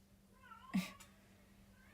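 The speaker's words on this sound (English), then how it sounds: "My cat is just meowing in the background." A pet cat meows faintly in the background, a couple of short rising calls followed by one brief sharper cry, with low steady room hum beneath.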